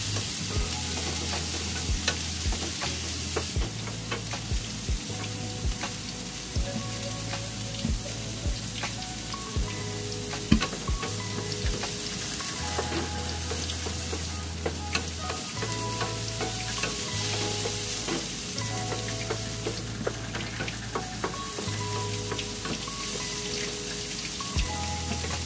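Pork belly fries in hot oil with a continuous close crackling sizzle, dense popping spatters and occasional stirring scrapes, no voices.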